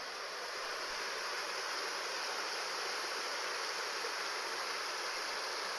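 Water rushes without pause through a sluice gate in an abbey water garden, a steady, even hiss of flowing water with no voices over it.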